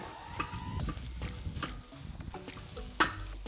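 Sausage browns in a pan for Mexican discada tacos: a soft close sizzle broken by irregular stirring scrapes and clicks, with a sharper knock near the end.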